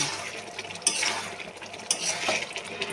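Ghugni, a pea curry, being stirred in a pot: repeated scraping and light metallic clinks of a spoon against the pot over a soft cooking hiss, close and fairly quiet.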